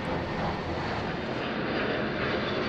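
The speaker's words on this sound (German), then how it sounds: "Es kann ganz spannend sein, die Flugzeuge von so nahem betrachten zu können." Airplanes pass close overhead near a Berlin residential area, a loud, continuous roaring engine rumble that fills the whole stretch without a break.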